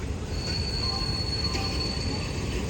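A general passenger train running between Mangalore Junction and Ernakulam Junction, heard as a steady low rumble of wheels on rails with a thin high wheel squeal sustained throughout.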